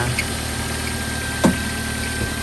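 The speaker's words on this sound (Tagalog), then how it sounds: "Yan ang makina niya. Toyota Accord." A repaired Toyota Accord engine idles with a steady low rumble and faint vibration, close up, with one brief knock partway through.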